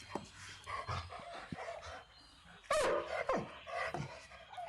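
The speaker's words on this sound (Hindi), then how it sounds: "एक जंगल में कुत्ते की बच्चे की रोने की आवाज़ आती है।" A puppy whimpers and yelps in a forest in short, high, broken cries that come several times in a row, faint and close, with no voices.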